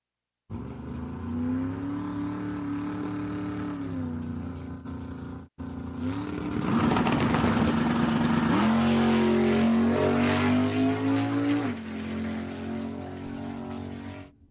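1970 Chevelle drag car at Empire Dragway roaring as it launches, a loud steady engine drone with a brief cut, then rising, strained high-revving pull that shifts pitch through gears, close and alone.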